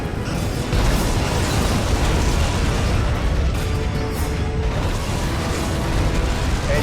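A Borg vessel blowing apart in the Star Trek: Legacy space combat game, heard as a sustained, dense, roaring blast with rumbling debris that stays loud and full for several seconds, without pauses.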